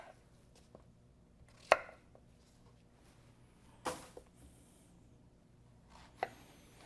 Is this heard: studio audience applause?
no